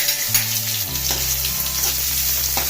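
Chopped onions hit hot oil in a pan for a sago snack, bursting into a steady, loud sizzle with crackling spatters throughout, no voices.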